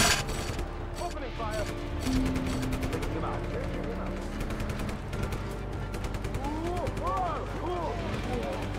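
Gunfire erupts in the video game Just Cause 3, rapid bursts and automatic fire mixed with explosive booms and mechanical whines, under a voice speaking in the game.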